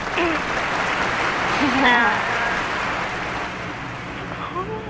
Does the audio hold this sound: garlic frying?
no